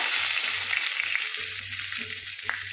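Dried red chillies, whole cumin, tomato and whole garam masala with bay leaf frying in hot oil, a close, bright continuous sizzle with occasional crackles and faint low stirring bumps.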